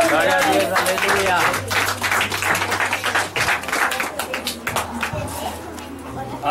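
A church congregation at an evangelical service in Piçarras, Santa Catarina, claps along to a lively hymn. Steady, rhythmic hand claps keep time under loud singing and instrumental music.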